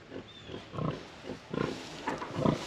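Pigs on a homestead give a series of low, uneven grunts, some nearby and some further off, with no talking over them.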